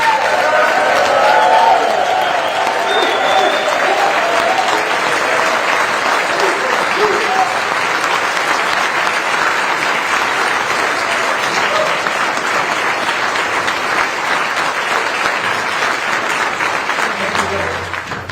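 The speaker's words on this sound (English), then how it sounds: "I think we can get him back here again if we give him a huge applause." Loud, sustained applause from a crowd of seniors at a governor's event in Fairview, dense clapping that carries steadily for nearly twenty seconds, heard close and without letup.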